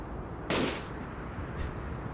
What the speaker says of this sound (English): Oh, that's a gunshot.